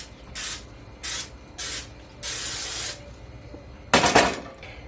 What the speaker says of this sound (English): Got a pan out and I am going to spray it.